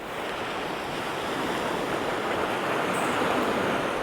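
Sea surf breaking and washing on a UK fishing shore, a steady broadband rush of waves mixed with some wind buffeting on the microphone, continuous and fairly close with no voices.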